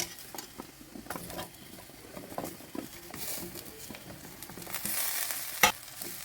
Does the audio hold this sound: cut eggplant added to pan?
yes